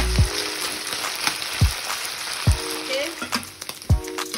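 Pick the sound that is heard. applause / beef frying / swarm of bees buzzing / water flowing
beef frying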